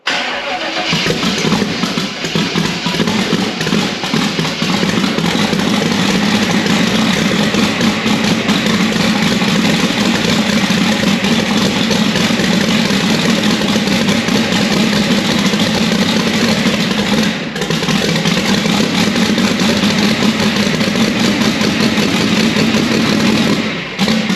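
A twin-turbo 6.0 engine in a 1965 GMC truck idles steadily and loudly just after its first start, a continuous close rumble with a brief dip near the end and no talking.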